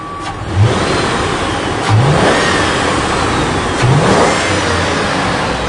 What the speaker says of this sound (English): engine's backfiring